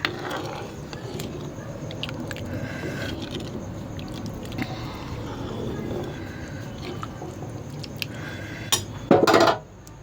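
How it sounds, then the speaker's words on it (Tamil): Tamarind gravy being stirred in a pot with a spoon, giving soft scraping and clinking of metal against the pot, with a louder burst of clatter near the end and no talk. "ஸோ இப்போ இப்படி நல்லா கிளறி விட்டுட்டு"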